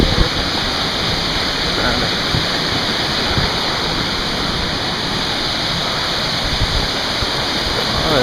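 Waterfall in the Finger Lakes region rushing steadily, a dense broadband roar that stays loud and constant throughout, with no speech.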